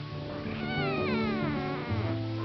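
Newborn kittens give a series of thin, high, wavering meows, close and overlapping, one cry sliding down in pitch over a soft low background.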